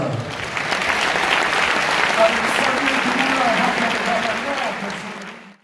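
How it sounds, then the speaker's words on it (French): A crowd at a Tour de France presentation applauds the riders, sustained clapping with a voice talking over it before it fades out at the end. "L'arrivée s'est alors transformée en concours d'applaudissements."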